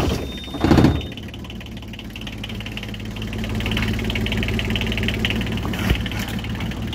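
A Yanmar 3GM marine diesel engine with an air blockage cranks briefly, then catches and settles into a steady, close, knocking idle.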